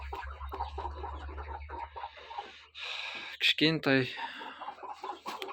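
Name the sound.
chickens clucking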